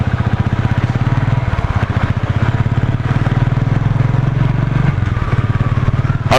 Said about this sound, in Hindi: तो बाइक स्टार्ट कर लिया है मैंने